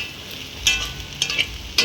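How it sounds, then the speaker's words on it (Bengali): Potatoes frying in a pan at home, a steady close sizzle broken by a few sharp spatters and stirring scrapes. "আর এখানে যে বড়ো করে আর আলুটা ভাজা করছি"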